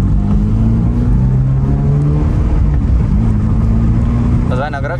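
Exotic sports car accelerating hard with the throttle floored, the engine note climbing in rising revving sweeps, loud and close, easing off near the end.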